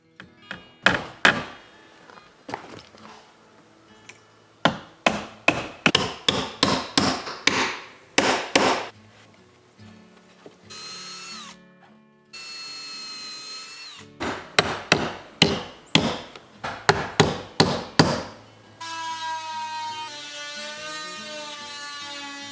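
Hammer blows drive nails into a very hard ash wood door frame, coming in fast rhythmic bursts of sharp, loud strikes with short pauses between runs, plus a stretch of a whining tool sound.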